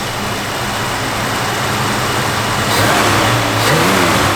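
A 1965 Ford Mustang convertible engine runs loud and close while warming up, holding a steady rumble before rising into two revs near the end.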